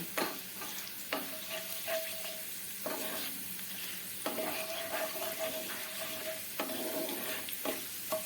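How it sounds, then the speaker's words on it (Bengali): Asafoetida being stirred into hot oil in a pan, a steady sizzle of frying with a faint high whine, interrupted by several scraping strokes of the spoon against the pan. "হিংটা দেওয়ার পরে একটু মিশিয়ে নিচ্ছি"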